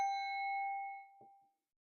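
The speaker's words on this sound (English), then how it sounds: "So here comes the bell" A single bell is struck to open a spiritual reading, ringing out clear and close, then its tone decays slowly into silence. A faint soft knock follows near the end.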